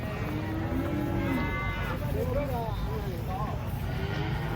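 Cows walking down from a truck give several drawn-out moos over a steady background rumble and noise, with people talking nearby.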